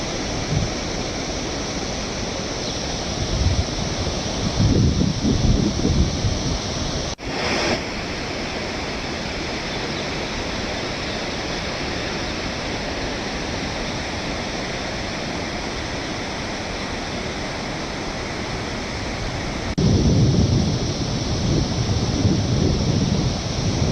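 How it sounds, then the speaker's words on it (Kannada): Water released through 12 gates of the Tungabhadra reservoir dam, about 40,882 cusecs roaring into the river during heavy rain, a loud, continuous broadband rush with slight swells. "12 ಗೇಟ್ಗಳ ಮೂಲಕ ಕೂಡ ಇದೀಗ ನೀರನ್ನ ನದಿಗೆ ಹರಿಬಿಡಲಾಗ್ತಾ ಇದೆ"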